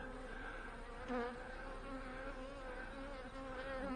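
Honey bees buzz in an opened hive of a colony that has already swarmed. The drone is steady and close, with a soft, continuous hum and faint fluctuations, and no one speaks.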